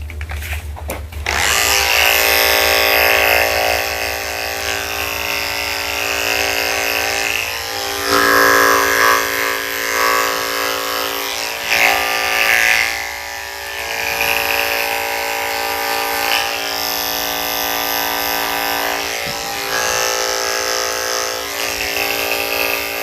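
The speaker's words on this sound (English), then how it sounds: "I'm gonna finish shaving her head and ears." Electric clippers buzz steadily for a long stretch while shaving a Cockapoo dog's head and ears, a loud, close motor whine that shifts pitch slightly as the blade moves through the coat; no talking.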